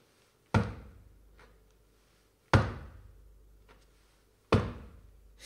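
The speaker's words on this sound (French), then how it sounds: "On frappe à la porte" Knocking on a door: three single heavy thuds spaced about two seconds apart, each ringing briefly before fading, close and loud with quiet between.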